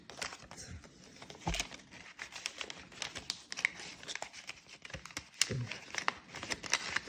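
Paper crinkles and rustles in small crisp bursts as an envelope is handled up close while cash is sorted into budget envelopes, quiet apart from the paper.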